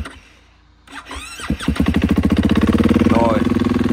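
An engine is cold-started in freezing weather around minus five degrees: a cranking start, then it catches and settles into a loud, rhythmic, pulsing idle close by, with someone speaking.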